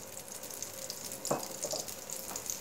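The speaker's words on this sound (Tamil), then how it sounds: "அதில் நம்ம ஒரு தோசை ஊற்றிக்கலாம். லேசாக எண்ணெய் சேர்த்துக்கலாம்." Spinach dosa batter with a little oil sizzling on a griddle makes a quiet, soft crackle, with a short sharper scrape or splash partway through and no talking.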